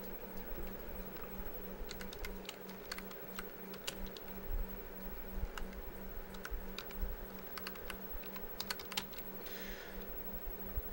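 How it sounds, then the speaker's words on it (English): Steady typing on a computer keyboard, rapid clustered key clicks in uneven bursts over a low constant hum, close and fairly quiet, with no one speaking. "what I'm actually doing is actually typing up what I've written so far"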